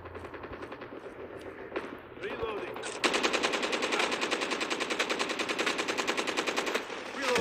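Automatic gunfire in the mobile shooter game Call of Duty Mobile, a sustained rapid burst of loud shots after a few scattered ones, with a voice talking over it.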